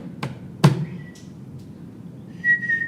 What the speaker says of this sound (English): Who's whistling at me?